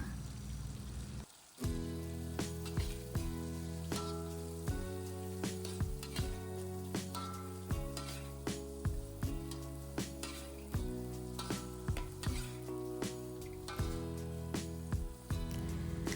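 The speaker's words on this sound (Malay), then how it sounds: "Masukkan juga bawang holland, masukkan cili dan daun limau purut, teruskan kacau sehingga bawang ni layu." Sardines stir-fry with onions, chili and kaffir lime leaves in a pan, a soft sizzle under steady background music, with frequent light scraping strokes of stirring, fairly quiet.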